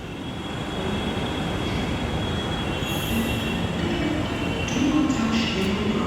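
A metro train ride heard from inside the car: a constant loud rumble of wheels on track with brief squeals and higher whines, continuous for several seconds with no talking.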